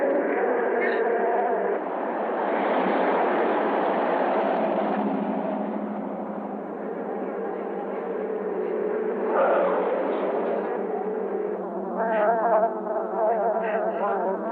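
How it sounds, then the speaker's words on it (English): A dense, steady buzzing of a swarm of bees fills the space, loud and close, swelling and fading slightly over time, as the bees come at a person and into a car. "the bees are coming at me!"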